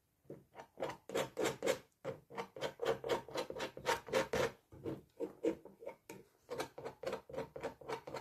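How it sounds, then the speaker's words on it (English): A tool scrapes paint off an old painting in a quick run of rhythmic rasping strokes, close and fairly quiet, with short pauses between bursts. "let's scrape this away"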